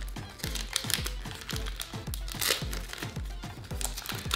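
Crinkly plastic wrapper of a Matchless Fighters trading card booster pack being worked open by hand, close and continuous, with rapid rustling, crackling and tearing textures.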